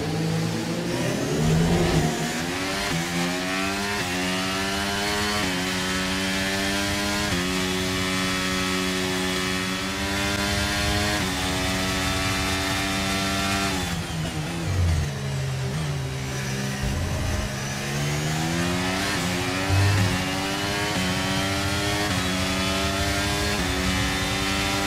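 An F1 racing car in a video game accelerating hard, its loud, close engine whine climbing through the gears in repeated rising sweeps with brief shifts, steady and without speech.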